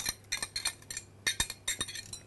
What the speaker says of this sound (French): On verse donc les courgettes dans un saladier.